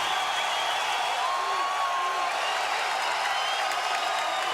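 Arena crowd at a 1999 UFC championship fight roaring steadily at the end of a round, a continuous loud wash of cheering and whoops with scattered voices rising above it.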